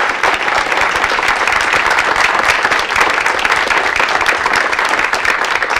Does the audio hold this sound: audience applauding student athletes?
yes